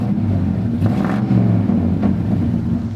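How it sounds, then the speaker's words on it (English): A big V8 truck engine rumbles low and steady, with a couple of brief revs rising above the drone, heard close up with no talking. "Listen to that V8 engine."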